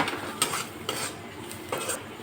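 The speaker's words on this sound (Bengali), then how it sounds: "মশলাগুলো ভালো করে কষিয়ে নিলাম।" Spices, including Kashmiri chilli powder, being sautéed and stirred in a pan, with a soft sizzle under a few distinct scraping strokes of a utensil against the pan, close and quiet.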